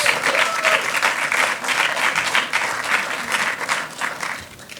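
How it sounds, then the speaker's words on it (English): An audience at a session on adult treatment and research updates gives a loud, close round of applause for a speaker, dense clapping that swells and fades slightly toward the end. "So a round of applause for Clare."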